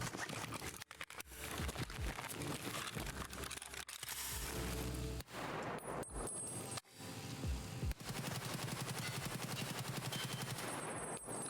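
Uncontrolled automatic fire from a budget weapon build in Escape from Tarkov, a loud, nearly continuous burst of rapid gunshots with a few short breaks between strings of fire.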